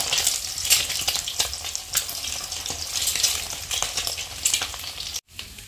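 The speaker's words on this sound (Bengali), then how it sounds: "এই যেগুলো এক সাইড করে এই তেলের মধ্যে আর কি ভেজে নিচ্ছি" Eggs and potatoes fry in hot oil, giving a close, continuous crackling sizzle with small sputtering pops that runs steadily before a brief dropout near the end.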